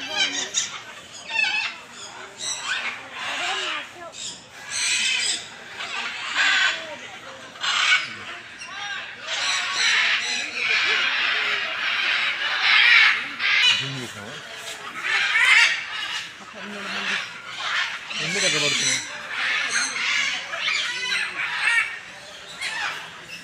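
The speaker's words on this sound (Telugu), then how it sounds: "ఇక్కడ చూడండి చాలా బర్డ్స్ ఉన్నాయి కలర్ఫుల్ కలర్ఫుల్గా" Many birds at a bird park squawk and chatter loudly in overlapping bursts, with harsh crow-like calls among them, close and continuous.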